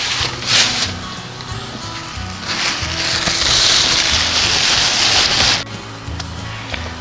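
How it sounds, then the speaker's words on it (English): Rain shower passing outdoors by a 1974 25 hp Johnson outboard motor, a broad hiss of falling rain swelling louder for a few seconds and then easing off, with a low steady hum beneath and no talk. "Well, that was a pretty good little shower."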